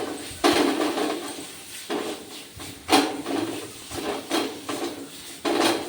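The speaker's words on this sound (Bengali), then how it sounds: "আলুটা খুব সুন্দর সিদ্ধ হয়ে গেছে আমি খুঁটি দিয়ে ম্যাশ করে দিচ্ছি এইভাবে" Boiled potatoes mashed with a wooden masher in a metal pot, a series of close, dull thumps and clanks at an uneven rhythm, with no voices.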